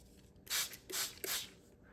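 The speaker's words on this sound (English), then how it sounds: "And then I'm going to spray this" Three bursts of spraying water mist onto wet-strength tissue paper, each a short hissing spritz with small clicks of the sprayer trigger, close and fairly loud in a quiet room.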